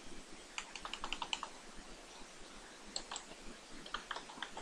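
Rapid, irregular clicking of keys on a computer keyboard while code is typed in, steady and close with no voices.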